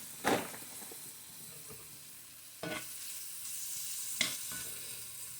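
Vegan cheese steak strips sizzle softly in a pan, broken by three clattering stirs, quiet and close with no talking.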